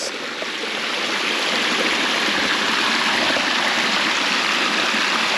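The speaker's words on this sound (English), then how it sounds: "So I heard the sound of rushing water up at the track," Loud, steady rush of water flowing through two big pipes near a railway track, a continuous broadband roar with no pauses and no voices.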